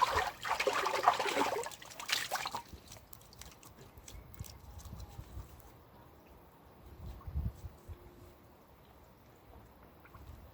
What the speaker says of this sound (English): Just wash my face with some of the water.